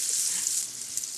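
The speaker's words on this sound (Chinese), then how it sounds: "煎大概差不多1分鐘啦" Hakka salted pork sizzles and fries steadily in a pan, a dense, close crackle that holds level throughout with a slight dip midway and no talking.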